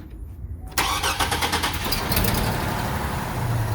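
A 2006 Chevy Trailblazer with years of carbon buildup cranks briefly and fires into a loud, rough, close idle that holds steady, with no voices.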